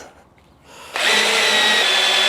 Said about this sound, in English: You got a fast enough and strong enough drill. Let's turn her up to max.